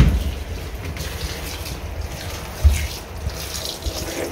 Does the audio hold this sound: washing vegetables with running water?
yes